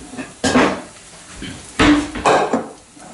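Oyster mushrooms being moved into a second pan: three or four loud clatters of metal cookware and utensils scraping and knocking, with short quiet gaps between, no talking.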